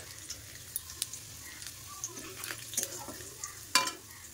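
Chopped garlic, cumin, a piece of cinnamon and cardamom frying in hot oil for palak paneer: a soft, close crackle of sizzling with scattered pops and a few spoon scrapes, fairly quiet, no speech.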